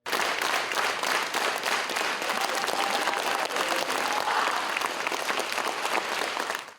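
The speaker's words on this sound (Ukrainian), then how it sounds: "проводжали поета гарячими оплесками" Warm audience applause for a poet at a poetry evening in Kremenchuk, a dense, continuous roll of clapping from a packed hall, loud and steady before fading at the very end.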